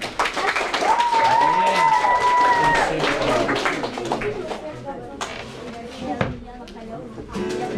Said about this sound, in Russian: встречаем аплодисментами!